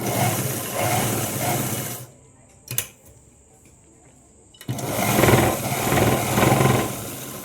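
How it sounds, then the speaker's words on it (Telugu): A sewing machine runs while stitching the lining to the main cloth of a Punjabi dress: a steady mechanical whirr for about two seconds, a quiet pause with a single click, then the machine running again, close and fairly loud, with no talking. "ఇలా మొత్తం లైనింగ్ని మెయిన్ క్లాత్ని ఇలా జాయిన్ చేసుకోవాలి"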